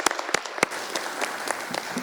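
An award ceremony audience claps in a short, brisk burst of applause, with individual sharp claps standing out close by.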